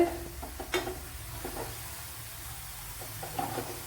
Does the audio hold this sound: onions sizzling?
yes